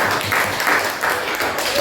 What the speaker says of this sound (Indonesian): Tepuk tangan untuk kelompok Gatot Kaca